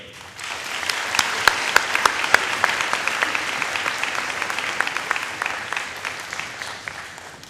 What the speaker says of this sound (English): Chief Chappell, with raised hands and a round of applause, we'll invite you to introduce yourselves